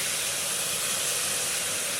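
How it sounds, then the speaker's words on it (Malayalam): Steady broadband sizzle of frying for chicken biryani in a pan, a continuous loud hiss with no breaks. "നല്ലോണം വറുക്കണം"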